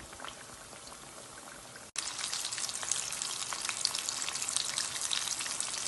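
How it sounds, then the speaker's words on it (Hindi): Samosas and onion pakoras fry in hot oil, a loud, dense, steady crackle and bubbling that cuts out for an instant and then returns even stronger. "साथ में समोसे भी फ्राई कर रही हूँ"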